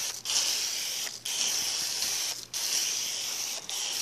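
A foam gun sprays cherry-scented car wash foam onto a car. It gives a steady close hiss in several bursts with brief breaks between them.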